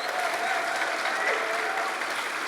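Audience at a live talk event applauding Slavoj Žižek's introduction, a dense, even wash of clapping sustained for the whole moment at moderate loudness.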